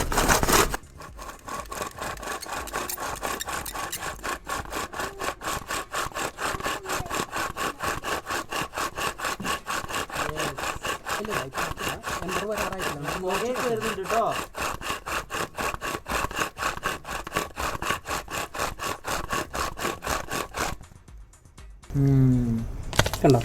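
Friction fire spindle turning steadily in a wooden board to make an ember: a continuous rapid rhythmic grinding rasp, close and loud, running nearly unbroken before stopping near the end, with a voice briefly at the close.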